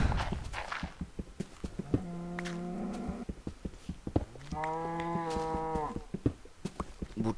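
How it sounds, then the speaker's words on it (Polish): A cow in a video game moos twice, long drawn-out lowing calls, with clattering footsteps and knocks in between and around them. "buczy, buczy, buczy, buczy, krowa buczy"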